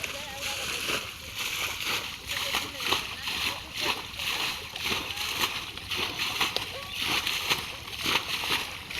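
Water hyacinth is hauled out of a shallow pond, making continuous sloshing and splattering water, close and fairly loud, with voices audible in the background.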